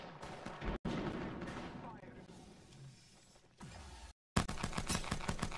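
Gunfire from the video game Apex Legends, with bursts of shots that break off and then return as a dense rapid volley near the end, mixed with game noise while a player talks over the action.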